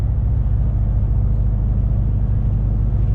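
A DAF truck's engine drones in 10th gear with a manual transmission, a loud, steady low rumble heard from inside the cab with no talk.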